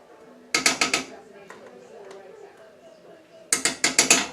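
A stovetop burner knob being turned to medium heat to melt butter in a pan gives rapid clicking bursts, two close clusters of sharp ratcheting clicks separated by a quieter stretch.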